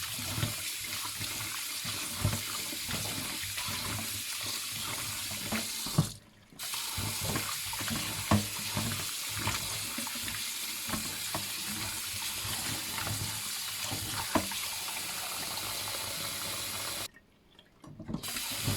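Steady running tap water splashing in a sink for a long stretch, with small clinks and rubbing noises as chicken hearts and livers are rinsed by hand.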